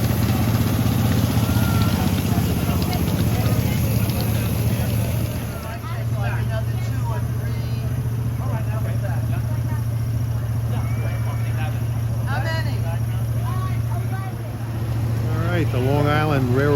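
A continuous low diesel engine hum drones steadily from an arriving model Santa Fe F7 diesel locomotive, with a voice talking over it and occasional squealing, chirping tones later on.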